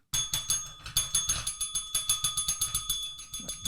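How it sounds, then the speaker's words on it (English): A small bell dinged repeatedly in a fast, steady rhythm, close and bright, each strike ringing briefly before the next, about sixteen rings over a few seconds with no talking. "I am going to ding you with the bell again if you don't define the word."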